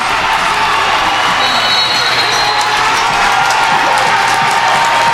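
The Northeast High School home crowd roars at a boys basketball game after a tip-in basket, a dense, continuous wall of cheering, whooping and clapping filling the gym.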